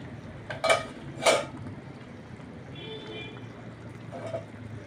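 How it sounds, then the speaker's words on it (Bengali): Two bright metallic clinks of a cooking pot lid being lifted and set down, close and sharp against a low kitchen hum, with fainter rattles following. "ঢাকাটা খুলছি।"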